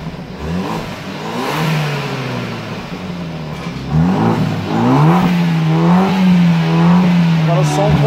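BMW 320 GP Sport engine on its original exhaust, revved in rising and falling pulls, loud and close, with a steady idle between surges.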